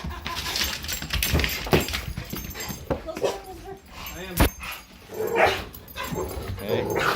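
Dog barks and yips in a home doorway as another dog arrives, short sharp barks scattered across the moment amid movement, handling noise and a person talking.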